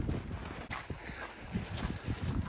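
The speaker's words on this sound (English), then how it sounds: "it's a windy day, get the flags going" Gusty wind buffets the microphone with a low, uneven rumble and rustling noise, fairly loud and continuous.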